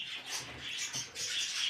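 Several pet birds kept at home chirp and call continuously, with bright overlapping twitters close by and no voices.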